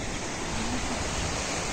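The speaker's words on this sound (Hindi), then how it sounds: "ये यहाँ से नदी जा रही है" Steady broadband rush of a river flowing near Shikhar Fall in Dehradun, a continuous close wash of water with no voices over it.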